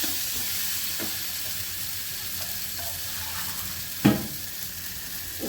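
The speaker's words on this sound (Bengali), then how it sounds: "আলু দিয়ে কষিয়ে নিচ্ছি।" Potatoes sizzle and fry in a pan as a steady close hiss, with a couple of soft scrapes from a spoon stirring them, one sharper knock near the end.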